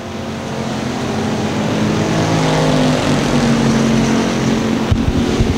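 Race cars roar down the back straightaway at Thunder Hill Speedway during a heat race, a loud sustained engine drone that swells as the pack passes.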